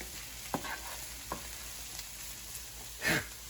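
Onions and carrot fry in a pan for shepherd's pie, a steady close sizzle with a few light knocks of a spoon and a louder scraping stir near the end, no one speaking.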